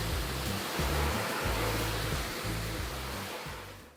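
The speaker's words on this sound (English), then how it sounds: "when the pressure washer was hitting the paint, it was doing a good job of keeping the water off the surface" A pressure washer sprays steadily onto the paint of a dusty, contaminated Mercedes, a loud continuous hiss with a pulsing low motor throb underneath, easing off at the very end.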